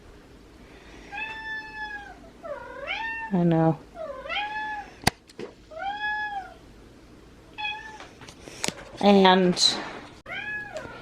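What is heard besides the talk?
cat meowing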